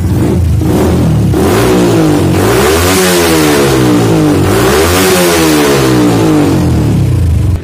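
A stock-engine Yamaha New Vixion motorcycle fitted with a PRT ECU revs hard again and again, its loud, close engine note climbing and falling in repeated sweeps with no talking.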